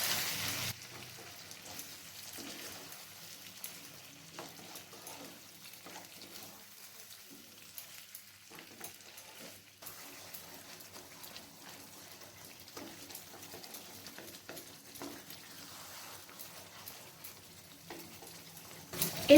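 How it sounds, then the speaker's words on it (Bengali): Chicken with onion paste cooking in a pan, a faint, soft crackling sizzle with occasional stirring taps, quiet and continuous throughout, with no speech. "এরপর চিকেনের সাথে পেঁয়াজের পেস্টটাকে ভালো করে মিশিয়ে নিচ্ছি।"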